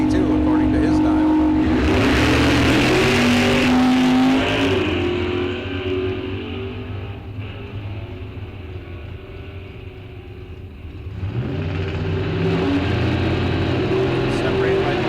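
Bracket drag race cars launch and accelerate down the Rock Falls Raceway strip, engines roaring loud then fading into the distance before another loud run surges up, with an announcer talking over them.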